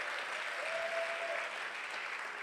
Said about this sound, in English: Clap it up if you got kids.